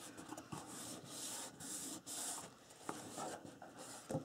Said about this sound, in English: So you may have to burnish it with your fingers here.